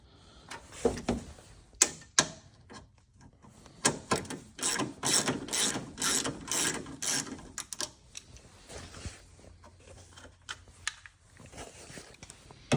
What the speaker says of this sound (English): I just normally use a ratchet for this type of stuff.